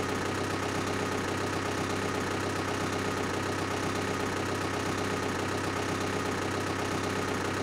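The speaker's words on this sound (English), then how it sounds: "let's park our combine in the equipment barn up here" Combine harvester engine in Farming Simulator 2011, a steady synthetic drone with an even idling hum and no variation in level, running alone without any talk.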